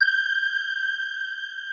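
A single metronome click frozen in a large reverb gives a bright, steady ringing tone with stacked overtones that holds unchanged throughout, a clean sustained drone with no pulses or breaks.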